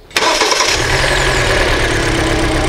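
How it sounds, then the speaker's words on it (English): A car engine with a misfire cranks and catches in a sudden burst, then settles into a loud, steady idle that runs on without pause. "I'm going to start the engine"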